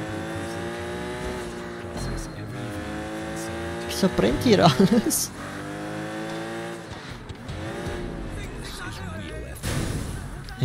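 Nissan Skyline in the game Sleeping Dogs, engine droning and revving through shifting pitch with a burst of tire squeal in the middle, while someone speaks briefly over the driving noise.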